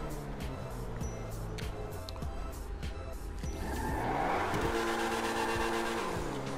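A red Grotti Cheetah Classic, a Ferrari Testarossa-style car in GTA V Online, drives with a steady engine drone that swells louder and rises in pitch midway as it accelerates, with a faint tire squeal.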